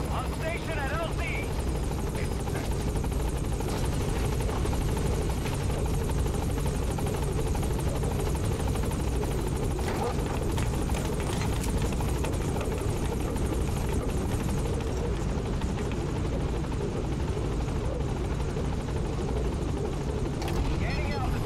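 A support helicopter arriving at a landing zone in Metal Gear Solid V, a loud, steady rotor drone that holds for the whole stretch while radio voices speak over it.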